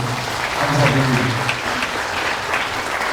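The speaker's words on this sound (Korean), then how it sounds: "박수 한번 쳐드리겠습니다." Residents at a redevelopment briefing meeting give a steady wash of applause that fills the room, with a voice murmuring over the crowd's clapping.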